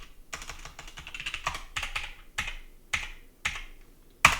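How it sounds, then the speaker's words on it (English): Computer keyboard keys pressed during Linux command-line work, mostly arrow keys stepping up and down through command history: a series of separate, fairly sharp clicks at an uneven pace, heard alone with no talking. "I'm using the arrows keys up and down to move in my history of the command line."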